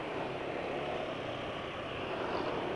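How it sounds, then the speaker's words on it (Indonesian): A vehicle engine running on Mobil Delvac 1 oil drones roughly and steadily, with a dense, unbroken mid-range roar and no pauses. "Cuma suara mesin kasar."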